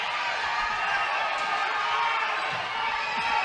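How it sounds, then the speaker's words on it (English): A basketball game crowd cheers in an arena, a steady roar of many voices with distant ball bounces and court noise beneath, holding even and loud for the whole span. "Crowd's trying to get into it."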